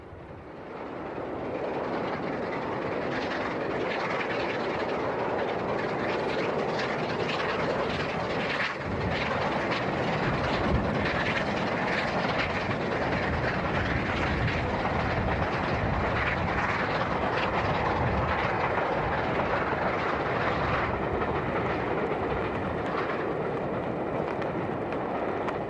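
LNER Peppercorn A2 steam locomotive 60532 Blue Peter hauls a northbound train toward Shotlock Hill Tunnel, a steady loud roar of engine and rolling wagons sustained throughout without any talk.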